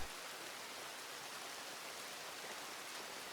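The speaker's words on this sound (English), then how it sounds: "let the sound of the rain carry you into a state of pure tranquility" Rain falls at night on a wooden cabin in the woods, a dense, even hiss of drops that stays soft and unbroken throughout with no voices.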